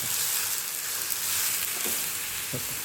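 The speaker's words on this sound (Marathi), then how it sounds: "आता हे पाणी टाकते थोडंसं, का तर मला पाणी लागणार आहे." Water poured into a hot pan of spinach greens and peanut powder, giving a loud, continuous hissing sizzle with a couple of faint clinks as it bubbles.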